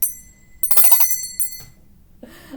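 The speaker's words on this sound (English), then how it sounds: "Let's ring that bell again." A bright metallic bell rings out loudly, then a second lighter strike rings shortly after, each ring decaying with a shimmering tail.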